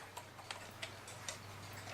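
A vintage Regula August Schwer cuckoo clock ticks in a quiet room, four sharp, evenly spaced ticks over a low steady hum.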